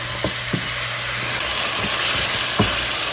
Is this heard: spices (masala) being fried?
yes